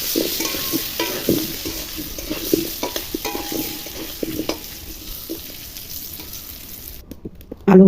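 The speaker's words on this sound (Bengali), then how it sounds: "এবার আলুগুলো কড়া করে ভেজে নেব।" Potatoes fry crisp in hot oil with a little turmeric in a kadai, sizzling steadily while a utensil stirs and scrapes in irregular strokes, close and fairly loud.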